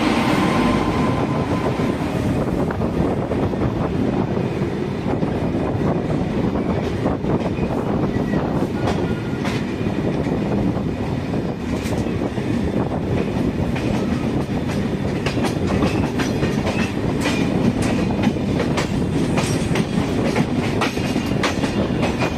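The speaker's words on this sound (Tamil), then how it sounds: "இப்போ வந்துட்டு இருக்கிறது ரொம்ப முக்கியமான ஒரு மும்பை ஹவுரா ட்ரெயின்" The Gitanjali Express, a Mumbai–Howrah train, rolls past close by in a loud, continuous roar of wheels and carriages with steady clickety-clack rail joints throughout, no voices.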